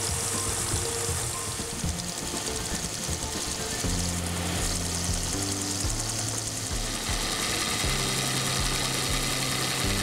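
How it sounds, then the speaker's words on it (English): A 1-inch belt sander grinding metal clock parts, a continuous loud abrasive roar with a steady motor hum running throughout. "I use the belt sander to bring the edges closer to the line"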